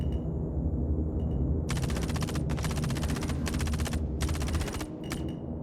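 Gunfire striking ship shields in Star Citizen: four long, rapid automatic bursts rattle loudly over a steady low engine hum. The bursts are separated by short gaps, and a few faint clicks follow at the end.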